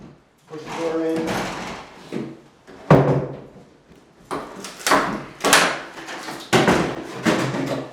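With a fire hook, a firefighter forces a door inward during overhaul training, giving a series of loud wooden thumps, scrapes and creaks in uneven bursts, close by, with a voice speaking at times.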